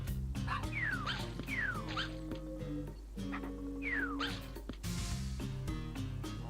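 Puppy whimpering and yipping in the video game THE DOGE Island, several high, sliding whines over a steady game music backdrop, fairly close and clear.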